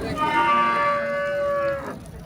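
A cow at a cattle market in Chintamani, Chikkaballapur, lets out a single long, drawn-out moo nearby, fading at the end amid quiet outdoor background noise.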